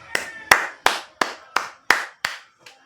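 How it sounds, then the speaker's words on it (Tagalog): Seven or eight separate, sharp hand claps ring out at a steady, slightly slowing pace, close and crisp with short echoing tails, the last one faint. "O naman, palakpak naman dyan."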